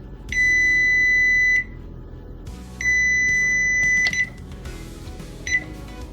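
A kitchen timer beeps in two long sustained electronic tones, then a brief third chirp, going off while cookies are made on a stovetop.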